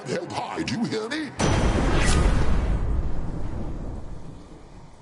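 Thunder in the video game Hades strikes with a sudden heavy crack and then rolls and rumbles down over several seconds. It follows a voice that speaks over a low, tonal background.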